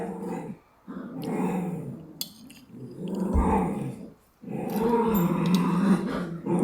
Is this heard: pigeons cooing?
no